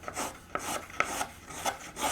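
A violin-making tool is sharpened with short, repeated rasping strokes of steel against an abrasive, about eight close, crisp scrapes in an uneven rhythm.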